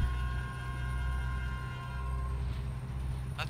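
A train rumbles past in American Truck Simulator, a steady low rolling drone with faint mechanical tones, heard from a truck cab at moderate distance.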